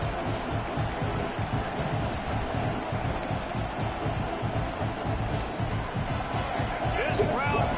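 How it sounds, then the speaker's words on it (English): A home crowd cheers in the NCAA 26 college football video game, a constant loud roar of noise that stays steady throughout, with faint commentary-like voices in the mix. "This crowd bringing the energy and noise early."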